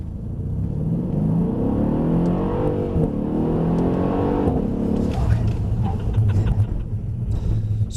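An AMG car accelerating during a driving exercise, its engine rising in a steady revving climb, then settling into a loud rumble as it drives on, with some talk in the background.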